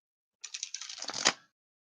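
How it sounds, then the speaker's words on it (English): A deck of playing cards gets shuffled in one quick riffle lasting about a second, close and fairly quiet, with a soft clatter at the end. "These are some really good shuffles."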